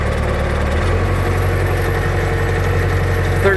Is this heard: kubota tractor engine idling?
yes